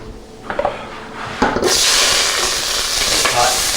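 Onions hit hot oil in a preheated pan and are stirred around, bringing a sudden loud, dense sizzle after a few quiet scrapes and knocks, then a steady close crackle.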